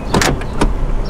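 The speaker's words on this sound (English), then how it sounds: "So when you put into drive, it automatically locks your car." Door locks on a car engage automatically as it is shifted into drive: a quick pair of sharp mechanical clunks followed by a single click, close and loud, with no talking.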